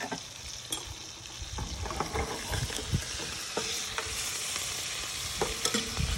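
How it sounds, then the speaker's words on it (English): Shrimp with scallions, serrano chili and cilantro simmer in tomato sauce in a home kitchen, giving a steady close sizzle with repeated scraping stir strokes throughout and no talking. "So these shrimp are cooking in the tomato sauce."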